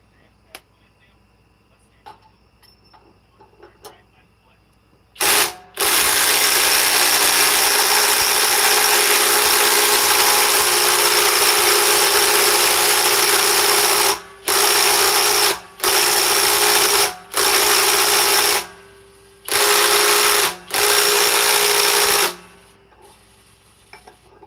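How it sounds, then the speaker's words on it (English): Flex FX1431A compact 3/8-inch cordless impact wrench on a 6 amp stacked lithium battery, a long loud hammering run followed by several short bursts with brief gaps, after a quiet start. "This is the FX 1431A compact 3/8 impact wrench from Flex, 6 amp stacked lithium."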